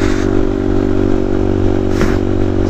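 A motorcycle ridden with a passenger aboard, its engine droning steadily and loud throughout, with a brief scrape or clatter near the end.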